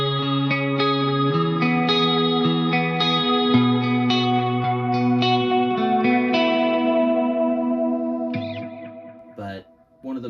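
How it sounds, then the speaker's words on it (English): An electric guitar runs through a Line 6 M5 set to a light Dimension chorus with stereo widening, playing a sequence of clean picked chords and notes that ring out and fade near the end. "I have the Line 6 M5 on a Dimension chorus setting, which is just doing a little light chorus and stereo widening"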